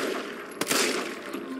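A short, sharp burst of gunfire in Resident Evil 3, one crisp report at close range followed by a brief rattling decay, fairly quiet overall against a hushed game ambience.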